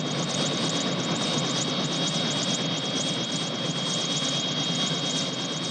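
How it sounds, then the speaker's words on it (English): A helicopter engine drones steadily and loudly, an even whirring roar with a thin high whine running through it. No voices are heard. "isn't that your helicopter over there?"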